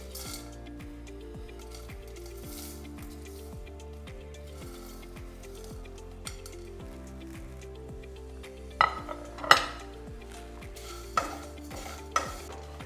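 Immunity drink ingredients dry-roasting in a pan, stirred with a spoon: steady scraping and rustling over a low background hum, then a few sharper clanks of the utensil against the pan toward the end.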